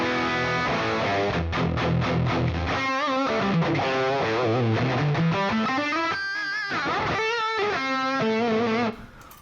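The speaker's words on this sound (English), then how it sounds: "I assign my distortion button to this specific scene and turn it on." Electric guitar played through a Quad Cortex crunch distortion scene, a continuous run of driven chords and bending single notes at steady loudness that cuts off near the end.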